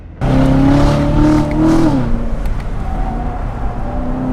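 A McLaren supercar on mixed tyres revs hard with a loud engine drone that sweeps in pitch and then drops away, a short close burst of motor noise with a squealing edge.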